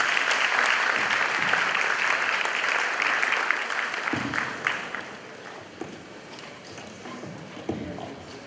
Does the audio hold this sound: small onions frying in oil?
no